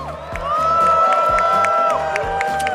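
A crowd in an esports arena at ESL One Raleigh 2025 cheers loudly and steadily, with whoops and shouts rising over the roar.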